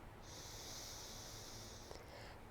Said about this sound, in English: Take another breath here in.